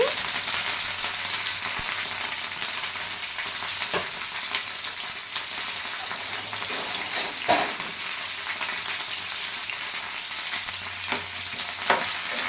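Cumin seeds and curry leaves crackle in hot oil at the start of a cauliflower curry, a loud, close, steady sizzle with a few sharp pops and stirring clicks.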